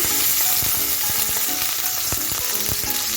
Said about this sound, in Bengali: সব কিছু তিরিশ সেকেন্ডের মতো ভেজে নিচ্ছি